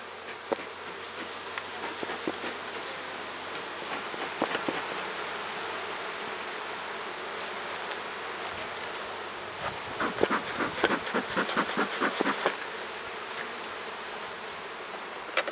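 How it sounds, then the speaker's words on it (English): Bees from an opened hive box buzz steadily and close by throughout, with denser swarming bursts near the end as the colony stirs. "I got the feeling this hive's going to get nasty when I open the boxes"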